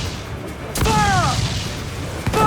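A broadside from a ship's cannons in Assassin's Creed IV Black Flag, one loud, close boom followed by a rolling rumble and a second blast near the end, over a wash of sea and wind, with a voice shouting.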